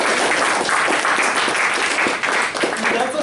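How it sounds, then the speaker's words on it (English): Big round of applause in a hall at an office bearers installation ceremony: dense, continuous clapping from a sizeable crowd, loud and even for the whole stretch. "So let's give a big round of applause"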